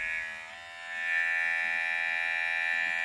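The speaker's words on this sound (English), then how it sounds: "And it's really a weak hair clipper." A cheap no-name electric hair clipper with no certification runs alone and up close, its weak, steady buzz dipping briefly before settling into a constant drone.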